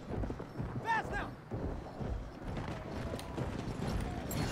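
A horse's hooves clip-clop at speed in Battlefield 1, with a brief neigh amid steady battlefield noise and rumble, all fairly distant and partly masked.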